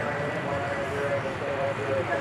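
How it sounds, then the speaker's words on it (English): An Airbus A321neo arriving from Phoenix at DFW Airport at night, heard as a moderate, continuous engine rumble with a faint tonal whine, under a steady background. "There you had flight 1972 arriving from Phoenix in Airbus A321neo."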